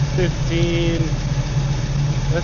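A 1968 Pontiac Firebird with a 500 HP engine idles steadily at 930 RPM, a deep, even rumble running close and continuous throughout, with someone talking over it.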